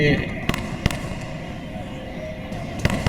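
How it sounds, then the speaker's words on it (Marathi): Firecrackers burst during a political celebration in Kolhapur, several sharp loud cracks at irregular intervals ringing out over a murmuring crowd and steady background din. "आपणच्या या आनंदाप्रत्यर्थ फटाके देखील थांबायला तयार नाही आहेत"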